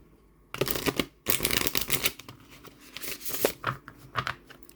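Tarot cards on Llewellyn cardstock are shuffled in quick riffling bursts, crisp papery flutters and soft taps coming and going close by, with brief pauses between rounds and no talk.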